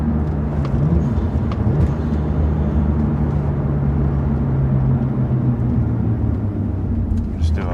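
A BMW 1M's engine (redline 7,500 RPM) drones steadily and loudly from inside the car as it rolls and pulls in low gear, a constant rumbling roar with a voice talking briefly over it.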